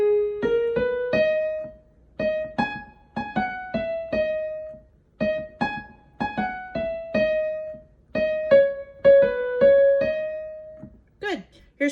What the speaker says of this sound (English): The synthesizer part is part 3, and it sounds like this.